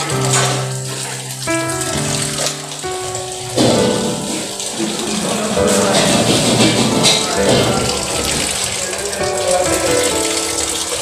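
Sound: cold water pouring into a pot to cool paneer

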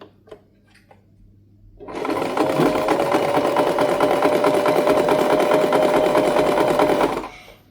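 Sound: sewing machine stitching thin muslin fabric

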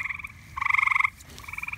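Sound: green frog croaking

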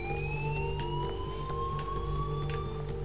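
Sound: police and fire engine sirens in the video game Life Is Strange

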